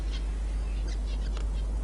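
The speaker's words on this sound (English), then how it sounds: "The birds down there, those little finches flying around the water" Small finches calling around a waterhole in the dry Australian desert, a few short, faint chirps scattered over a low steady rumble of outdoor background.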